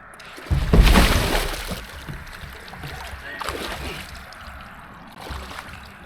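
A person slips and falls at a boat ramp while launching a fishing kayak. A loud splash and clatter comes early, followed by quieter sloshing and scattered bumps, with voices in the background.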